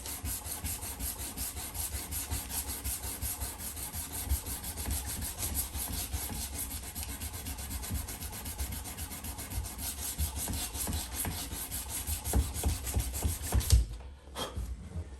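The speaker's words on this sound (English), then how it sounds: "this little area right here in the ricasso is the hardest part to, it takes the longest and most pressure to sand the previous grit scratches out" Steady back-and-forth rubbing of sandpaper by hand on the ricasso of a knife blade, a long run of quick rasping strokes that stops abruptly near the end, with no talk over it.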